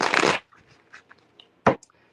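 Playing cards being shuffled at close range: a dense riffling burst at the start, a few faint flicks, then another short riffle.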